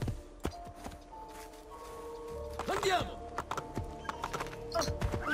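Horses galloping over rocky ground in Assassin's Creed 2, hooves clattering in quick uneven bursts with a whinny midway, under game sound effects and a voice talking.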